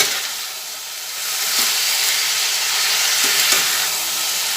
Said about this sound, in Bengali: সব দেওয়ার পরে আবার ভালোভাবে এটা ভেজে নিচ্ছি